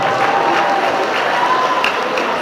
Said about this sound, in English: please let us give her a standing ovation. With an applause as well.